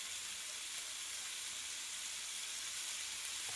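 Onion, ginger, green chili, curry leaves and tomato sauté in a pan after chicken was fried in it, giving a faint, steady, even hiss of frying with no other sounds.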